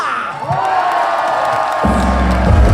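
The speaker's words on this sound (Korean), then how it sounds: "함성과 박수 주세요" A festival crowd at the Geumsan World Ginseng Festival concert cheers and shouts loudly, with a sudden surge of heavy, booming crowd noise in the second half, voices mixed throughout.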